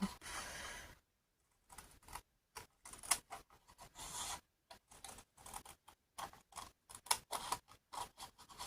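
Scissors snip through card stock while making a handmade shabby-style greeting card, a close, crisp run of quick, irregular cuts with brief pauses between them and no voices.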